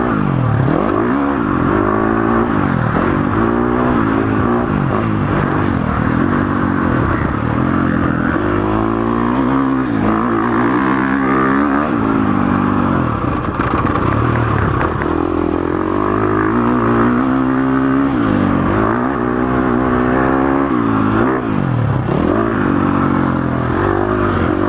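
A 2019 KTM 350 XCF dirt bike engine revs and pulls hard on slippery ground, its loud buzzing pitch rising and falling with repeated throttle bursts close to the microphone throughout.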